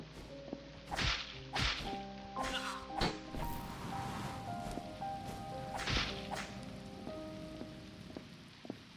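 A whip cracks and swishes in a physics-driven fantasy video game, several sharp lashes in quick succession over a bed of tonal music and game ambience.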